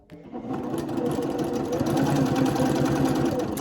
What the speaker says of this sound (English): I'm going to take it to the sewing machine and I'm going to do a straight stitch